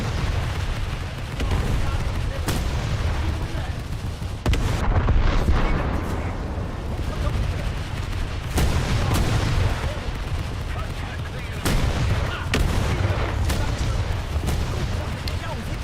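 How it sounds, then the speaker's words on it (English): Ship guns blaze away at a cruiser in a naval combat game, loud booming salvos repeating every second or two over a dense rumbling wash of sustained cannon fire. "all of my AI gunners just open fire"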